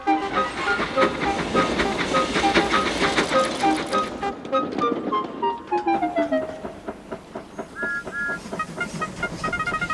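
A steam engine pulls two old coaches away from a junction, rolling with a steady rhythmic chuff and clatter, loud and close, with ringing tonal whistle-like notes and hiss sliding through the middle.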